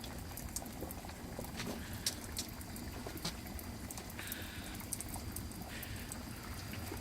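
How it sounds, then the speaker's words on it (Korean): Beef bone broth bubbling in a cast-iron cauldron over a wood fire, a steady low simmer with faint irregular pops and gurgles, heard alone at close range. "보글보글 소리가 들리시는지요?"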